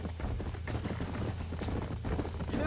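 Horse hooves clip-clop in the Red Dead Redemption video game, a rapid steady rhythm of hoofbeats over a low rumble, continuous and moderately close.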